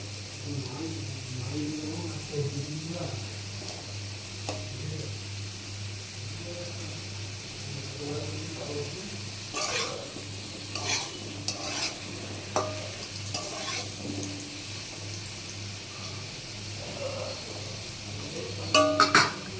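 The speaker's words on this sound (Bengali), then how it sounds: "মাঝে মাঝে একটু নাড়া দিয়ে দিই" A spoon stirs soybean curry and potatoes frying in a pan, scraping and clinking in irregular strokes over a continuous sizzle, with a voice talking now and then.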